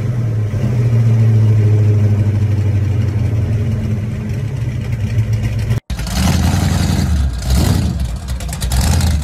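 A big engine on an old-school muscle car at a burnout event, loud and close, idling with a deep rumble before a brief cut, then revving hard in repeated bursts.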